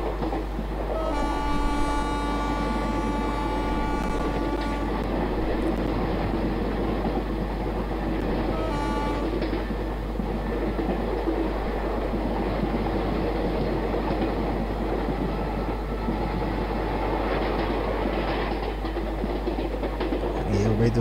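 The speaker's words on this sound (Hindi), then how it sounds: "और ट्रेन आ रही है, देखिए आ रही है, आ रही है, आ रही है" A simulated 12628 Karnataka Express runs on the Khandesh route in MSTS/Open Rails. A horn blast opens, a second short toot follows, then a loud, steady, rumbling roll of wheels and carriages continues to the end.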